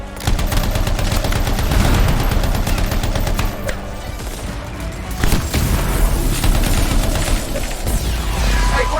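Heavy, continuous gunfire from an oversized weapon in the game Anthem, a loud, dense barrage of rapid booming shots that runs almost without a break, dips briefly partway through and then surges again.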